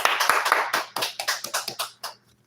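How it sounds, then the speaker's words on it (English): Scattered hand clapping from a small group greets a rapper out of New Orleans, with a dozen or so uneven claps over a low steady hum before trailing off into near silence. "Give him a round of applause"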